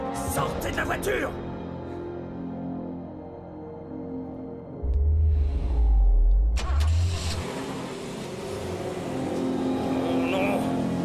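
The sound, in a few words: car driving off, from a film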